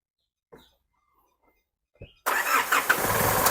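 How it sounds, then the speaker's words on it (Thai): A few soft clicks, then the 2.5-litre engine of a 2007 Isuzu D-Max pickup cranks and catches, settling into a steady, rumbling idle close by. "เดี๋ยวฟังเสียงเครื่องนะครับ"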